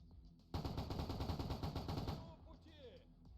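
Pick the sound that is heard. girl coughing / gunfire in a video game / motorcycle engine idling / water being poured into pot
gunfire in a video game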